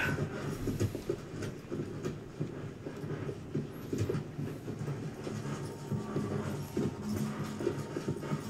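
Horse hooves clopping in the Shadow of the Colossus video game, a steady galloping clatter over a low rumbling bed with ambient game sound, continuous throughout.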